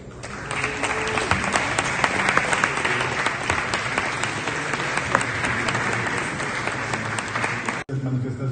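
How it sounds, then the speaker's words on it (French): A large audience applauds steadily for a sports team at a public event, a dense wash of many hands clapping for about eight seconds before stopping abruptly, with a voice returning at the end. "que je vous demande d'applaudir."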